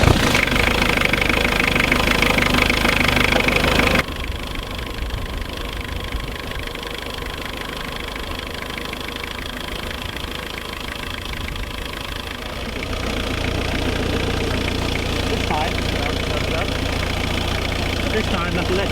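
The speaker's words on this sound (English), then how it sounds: "We need to start the main engine." A hybrid marine main engine starts up and settles into a steady idle, a loud continuous low rumble with mechanical knocking, dropping in level after a few seconds and rising again toward the end.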